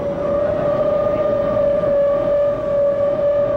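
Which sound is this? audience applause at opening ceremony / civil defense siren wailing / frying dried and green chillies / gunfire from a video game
civil defense siren wailing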